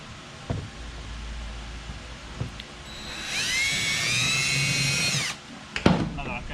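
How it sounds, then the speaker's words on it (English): During a side splitter install, a power drill whirs up and drives a screw for about two seconds, its pitch winding as it runs. Brief knocks and handling noises come before and after. "Helps if the drill's turning the right way."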